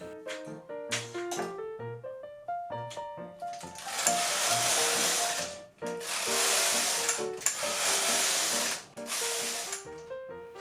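A knitting machine carriage slides back and forth across the needle bed while knitting a sweater, with rapid hissing whooshes in repeated passes mixed with clicks and some tonal music in the background.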